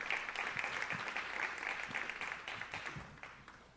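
An audience at a university innovation week event applauds fairly quietly, with the clapping gradually tapering off toward the end.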